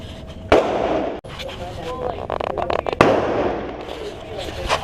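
Two loud, sharp bangs from a 5.56 rifle ring out a few seconds apart outdoors, each with a short decaying tail, while someone talks throughout.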